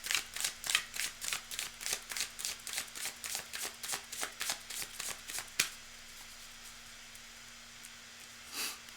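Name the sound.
shuffling cards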